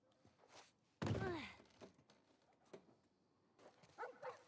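Dog in The Last of Us Part 1, a video game set in the suburbs, makes several short barks and yips. A loud bark comes first, followed by fainter scattered yelps against a quiet background.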